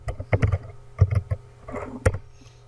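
Computer keyboard typing in short clusters of keystrokes, close and crisp with small pauses between bursts, no talking.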